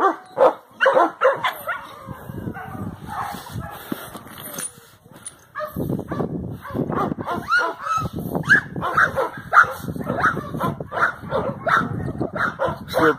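Several pit bull type dogs in a kennel yard bark and yip in bursts, fairly close, with someone talking over and between the barking.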